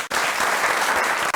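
Studio audience applause on a Kenyan TV broadcast: dense, steady clapping fills the whole moment at full level, with a brief dip near the start and another just before the end.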